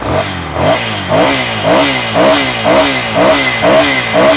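A Triumph Scrambler 800 motorcycle engine revs repeatedly in a rhythmic rise-and-fall pattern, loud and close, with a rough mechanical clatter underneath.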